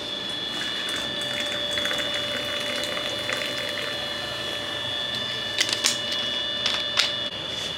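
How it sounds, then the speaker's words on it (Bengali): Cold Sprite poured into a watermelon mojito, a continuous fizzy hiss of liquid filling a glass, close and steady throughout, with a few brighter splashy bursts near the end. "আর তার সাথে ঠান্ডা ঠান্ডা স্প্রাইট। আপনারা চাইলে সোডাও দিতে পারেন। এই দিচ্ছি স্প্রাইট।"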